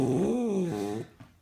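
A grumpy old dog growls on a lawn, a single close, sustained low snarl lasting about a second before trailing off into quiet.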